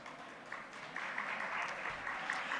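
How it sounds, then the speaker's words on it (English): A conference audience claps in a hall, steady dense applause at moderate distance, fairly soft and even throughout. "please give a big applause"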